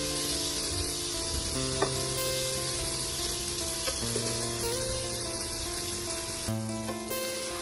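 Paneer pieces sizzle steadily in hot ghee, a close, continuous frying hiss with occasional soft stirring clinks and tonal kitchen hum, no voices.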